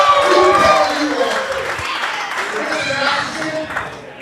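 A crowd at a wrestling double event in Port Dover, Ontario cheers and applauds, a broad roar of clapping and shouting that swells early then gradually settles, with an announcer talking over it.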